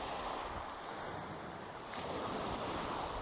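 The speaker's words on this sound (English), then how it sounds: "It continued to be windy and rainy the next day." Strong wind with rain outdoors on a hiking trail in Torres del Paine National Park, a constant broadband roar and buffeting against the microphone, with no voices.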